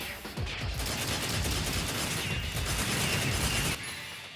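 Gunfire in Devil May Cry 4 Special Edition, a dense steady clatter of rapid shots and mechanical impacts lasting several seconds before cutting off abruptly.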